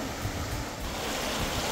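A small stream flows over and beneath stones along a closed-off path, giving a steady, even rush of water with a little wind noise and no talking.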